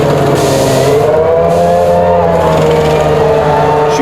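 Formula 1 cars at the 1994 Japanese Grand Prix, a Ferrari among them, scream past with a loud, high-pitched engine whine that rises and holds steady, with no voices.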